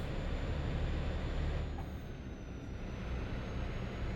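A truck drives in a trucking video game set in the northern Nordics, with a steady, loud engine drone and road rumble and a brief hiss partway through, no talking.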